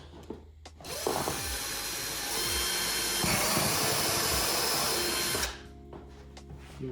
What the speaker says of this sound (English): So the drill goes right here